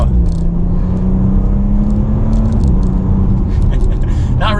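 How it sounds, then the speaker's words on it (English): A 2021 Audi RS5 Sportback with stock exhaust, driven at quarter throttle in its most performance-oriented mode, hums with a steady, fairly subdued engine drone and road rumble inside the cabin, with small clicks near the end. "Not really too much of an exhaust sound in the stock configuration, but it's nice and peppy, just giving it quarter throttle"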